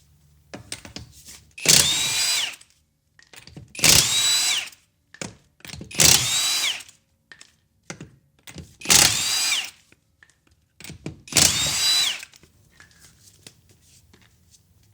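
A Gen 2 Hercules Ultra Torque cordless impact wrench with a 5 amp hour battery and 19mm socket, in mode 3, hammers lug nuts torqued to 80 foot-pounds: five loud, separate bursts of about a second each, with quiet pauses and small handling clunks between.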